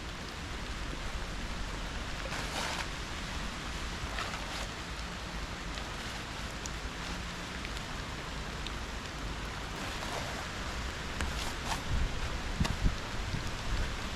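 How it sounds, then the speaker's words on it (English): Steady rain falling on an abandoned rail trail outdoors, a continuous even hiss of drops with a few louder patters, and no talking. "All right, it's starting to rain."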